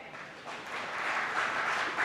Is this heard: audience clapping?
yes